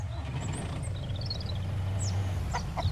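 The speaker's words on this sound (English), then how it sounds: "Get out of the way, chicken." A chicken clucks in the survival game Mist Survival, a few short fowl calls and squawks over a low engine-like hum, moderately close.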